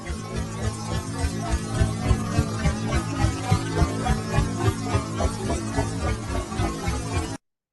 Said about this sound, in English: I ended up stretching the helicopter and then reversing the helicopter